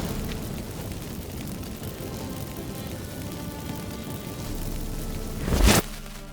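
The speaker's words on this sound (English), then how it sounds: "Get ready for some magic fireworks." Magic fireworks set off from lit incense in The Witcher 3 video game: a single short, sharp burst with a crackling pop near the end, over a low ambient rumble.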